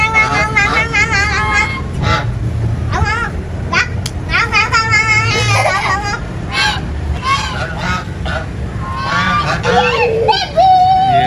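Ducks and geese quack and honk loudly and continuously, with excited children's voices mixed in throughout.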